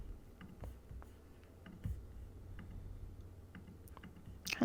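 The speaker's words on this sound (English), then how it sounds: "Kind of clicking around to see what colors we have." A computer mouse clicks during photo editing, with a scattering of faint, close, irregular clicks and light taps spaced across several quiet seconds.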